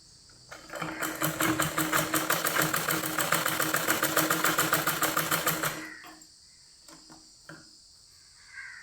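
A sewing machine stitches along fabric edges, running in a loud, steady, rapid chatter of stitches for about five seconds before stopping, followed by a few faint clicks and handling noises.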